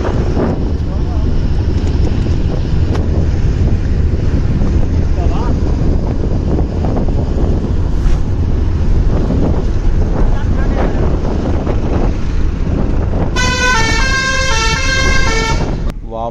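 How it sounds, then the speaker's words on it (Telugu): A bus engine drones low and steady as the bus pulls off on a mountain road in Uttarakhand, with heavy wind buffeting the microphone throughout and a short melodic horn near the end. "ఇంకా మన బస్సు అయితే స్టార్ట్ అయిపోయింది"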